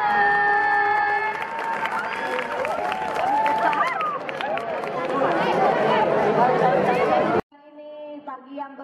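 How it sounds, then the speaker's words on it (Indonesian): Audience at a school fashion show with a folk-legend theme gives crowd applause, cheering and excited chatter loudly and continuously for about seven seconds, then it cuts abruptly to a quieter stretch of amplified announcer speech. "Tepuk tangan."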